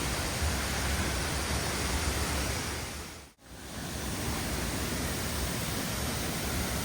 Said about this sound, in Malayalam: ഞങ്ങൾ നടന്നിട്ടിതാ വെള്ളച്ചാട്ടത്തിൻ്റെ അടുത്തെത്തിയിട്ടുണ്ട്